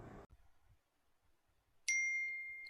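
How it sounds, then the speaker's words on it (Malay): A TikTok notification on a phone sounds once: a bright, sustained electronic chime that rings out clearly and slowly fades, alone and close after a brief muffled noise and near silence. "Wah, notification daripada TikTok lah."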